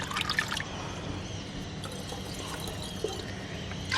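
Water poured to fill a container up to a 2 litre mark: a steady trickling and splashing pour that lasts throughout, fairly close, with brief louder splashes at the start and end.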